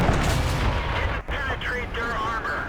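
A tank cannon shot from the FCM 50 T in a tank game: a heavy booming blast fills the opening second, then fades into rumbling engine noise with a voice speaking over it.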